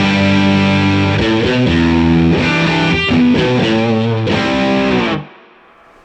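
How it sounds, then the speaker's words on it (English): Electric guitar through an Origin Effects RevivalDRIVE overdrive pedal set to a tweed amp tone, playing a short run of chords with a warm, gritty crunch, loud throughout before stopping and decaying into quiet. "And then we can switch straight to tweed."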